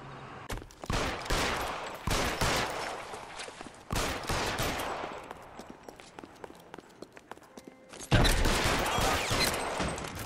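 Gunfire in the L.A. Noire video game: loud, dense bursts of shots and rapid fusillades in several waves, separated by brief lulls, with the heaviest volley coming near the end.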